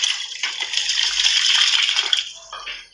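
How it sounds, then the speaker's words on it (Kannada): Rice poured into a pot of hot water spiced with cinnamon, cardamom, cloves and peppercorns, giving a steady close rush of splashing water and grains for about two seconds before it tapers off. "ಅಕ್ಕಿ ಹಾಕ್ತಾ ಇದ್ದೀನಿ ಇದಕ್ಕೆ."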